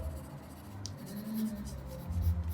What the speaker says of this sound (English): I'll now use my graphite pencil to define this area.